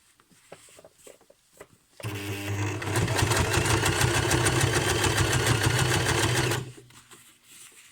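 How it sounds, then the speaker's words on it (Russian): Sewing machine stitching old jeans, a steady, loud rapid mechanical whir that starts abruptly, runs for about four and a half seconds and then stops, with faint handling clicks and rustling before and after. "Так, шью дальше."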